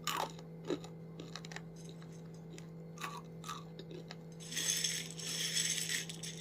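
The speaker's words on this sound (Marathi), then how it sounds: "पहिल्यांदा या सांडग्याचा आवाज ऐकूया" Crisp, brittle crunches and snaps of crispy dried lentil dumplings sound in short bursts, followed by a rattling, crackling clatter near the end, all close and quiet.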